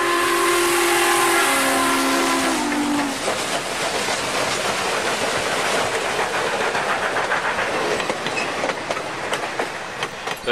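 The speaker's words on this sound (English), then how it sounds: "It's got the replica of the 4449 steam whistle mounted on this Pacific." A train's replica 4449 steam whistle, mounted on a diesel Pacific, sounds in long chime tones, then cuts off as the rhythmic clickety-clack of rail cars rolling by continues loudly.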